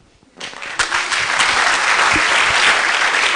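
An audience at a medical debate bursts into steady clapping after a quiet start, the applause building quickly and holding full and dense to the end.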